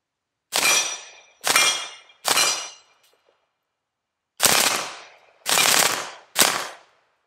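An AR-15 fitted with a .45 ACP conversion kit fires Remington hollow-point rounds: three sharp, loud shots about a second apart, a pause, then three more, each with a short ringing decay.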